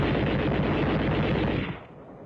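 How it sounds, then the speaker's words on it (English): Dense, loud automatic machine gun fire from a WWII Burma battlefield, a continuous rapid burst of overlapping shots that cuts off and tails away near the end. "A patrol dashes out of the brush after being pinned down by machine gun fire."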